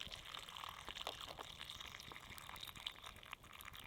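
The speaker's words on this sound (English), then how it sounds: "I'm going to add the water to the bag instead" Water is poured into a bag, a faint, steady trickle and splash lasting a few seconds, close but very quiet, with no talk.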